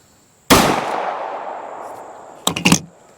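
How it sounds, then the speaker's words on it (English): A single loud, close gunshot goes off during a test of ProCase electronic shooting earmuffs. The blast decays over about two seconds, then a quick cluster of sharp clicks and knocks follows. "Let's see how it does again now when we shoot one more time."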